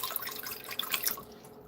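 Water runs from a kitchen tap as a pot is filled for cooking Filipino pork sinigang, with a faint, close splashing and dripping that trails off toward the end.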